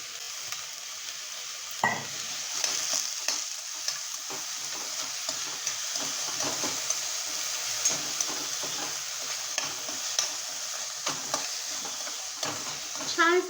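Chopped onion and chana dal sautéing in a pan for a radish and chana dal sabji, a steady soft sizzle with occasional scrapes and stirring knocks from a spatula, close by and without talk.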